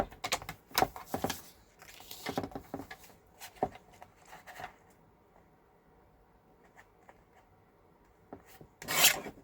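Paper is cut into 1-inch strips for a floral journal, with close scraping and rasping cuts in irregular bursts, then a quiet stretch and a louder final scrape.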